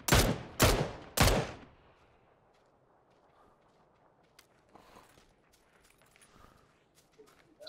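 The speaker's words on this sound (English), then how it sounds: "Shots from the west somewhere, I think. From those buildings" Three loud, sharp gunshots crack in quick succession from buildings in the video game Battlegrounds, each with a short echoing tail. A quiet ambient bed and a few faint ticks follow.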